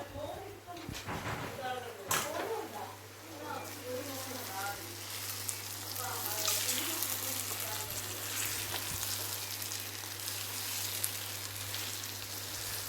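Eggs sizzling in a pan for egg roast, a steady crackling fry running throughout, fairly soft, with occasional spoon stirring and a constant low hum beneath.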